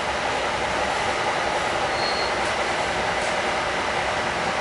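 Heard from inside a passenger train riding from New Jersey to New York, a steady, loud rumble and rushing hiss of wheels on rails continues unbroken throughout.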